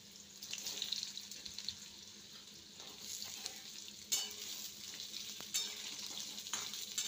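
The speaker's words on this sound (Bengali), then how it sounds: "আলুগুলোকে সুন্দর করে ওলট পালট করে নেড়ে নিতে হবে" Potatoes sizzle in hot oil with cumin seeds while a spoon turns them over, a close frying hiss with occasional louder scraping bursts as the pieces are tossed and stirred.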